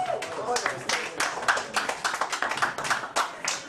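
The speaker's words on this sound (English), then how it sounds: "You can clap for that." Lively audience clapping fills the room at a comedy show, dense and steady, with a few cheers and voices mixed in.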